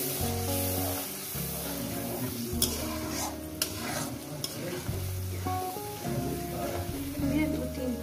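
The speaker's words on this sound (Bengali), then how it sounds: "বন্ধুরা এটাকে সুন্দর করে মশলাটাকে ভালো করে কষিয়ে নেব" Tomato and spice masala sautéed in a pan for chicken kasha, a steady dense sizzle with occasional sharp stirring clicks, carrying on under music throughout.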